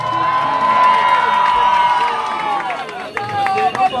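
A live concert crowd in Paris at a show cheers and shouts loudly and continuously, with sustained voices and whoops filling the space and a few sharp claps near the end.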